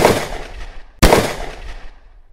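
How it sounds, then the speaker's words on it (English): Two sharp, loud gunshot blasts about a second apart ring out in a radio western drama, each cracking hard and then decaying with a short echo. Nothing else is heard. "Suddenly, from beyond the farther ridge, gunfire blasts its bloody call."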